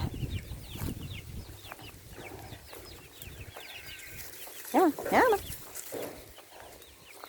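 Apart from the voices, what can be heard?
chicks and guinea fowl clucking while being herded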